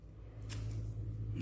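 Scissors snipping paper ears for a children's craft, quiet and close, with a soft brushing cut followed by a sharp click of the blades at the end.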